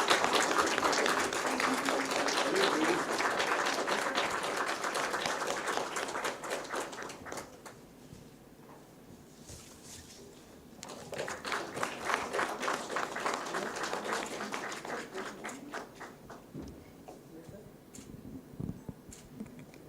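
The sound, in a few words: audience applause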